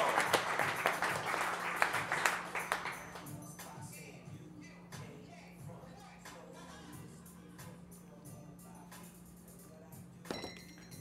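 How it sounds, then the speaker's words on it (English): A small audience at a café-style drink presentation gives a short round of applause that swells for about three seconds, then fades into quiet room sounds with faint clinks and shuffling. "Another big round of applause for Laila Gambari's Cafe Allegro."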